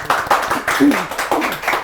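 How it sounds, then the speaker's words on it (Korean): An audience at a live talk event claps in a short burst of applause, close and fairly loud, with a voice speaking over it. "박수 한번 보내드리겠습니다."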